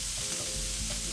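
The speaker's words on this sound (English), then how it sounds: "I'm going to finish the saute process with the onions and the mushrooms in here" Onions and mushrooms sauteing with sausage in a pan, giving a loud continuous sizzle and crackle close up, with a few stirring scrapes and no talk.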